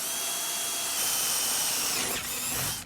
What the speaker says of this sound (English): Gonna drill the holes for the wires.